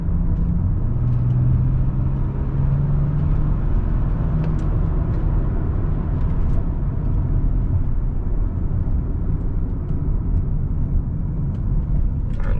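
A tuned BMW X5 35d diesel pulls hard under acceleration, its engine drone steady and loud with a low rising tone and gear changes folded into a continuous rumble.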